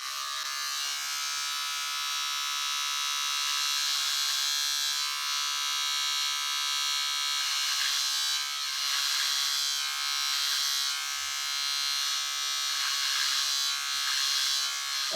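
A Microtouch Titanium Trim electric trimmer with its guard removed runs close by, edging along a hairline with a steady high-pitched buzz that holds for the full stretch, shifting slightly as the blade moves over the hair.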